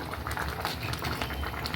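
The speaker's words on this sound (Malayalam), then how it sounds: "അപ്പം നന്നായിട്ട് തിളച്ച് വന്നിട്ടുണ്ട് മുരിങ്ങയിലല്ലേ പെട്ടെന്ന് വെന്തോളും" A pot of drumstick leaf curry with jackfruit seeds bubbles at a full boil, a steady close burbling simmer without pause.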